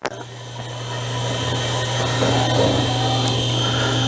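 Hydraulic head rising on a semi-automatic double miter bandsaw (RMT S-FAB PDM 10-14) in a fabrication shop: a steady mechanical hum and whine that starts after a short click and holds level throughout, with no talk.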